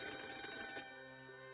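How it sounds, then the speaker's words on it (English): A cell phone lies on a table and rings, a bright, fast electronic ringing trill. It stops abruptly partway through, and faint tones linger afterward. No voices are heard. "my cell phone, sitting on the table, started ringing"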